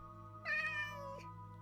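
A cat in the video game Minecraft, in a modded Ars Nouveau world, gives a single clear meow close up, rising then falling, over a quiet steady game background hum.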